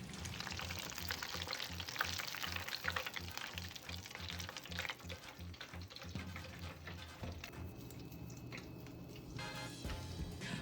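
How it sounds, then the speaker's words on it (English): Pepperoni arancini deep-fry in a pot of oil, giving a continuous, even bubbling sizzle with faint crackles at close range and no talking. "we are gonna fry these until they are deeply golden brown and delicious"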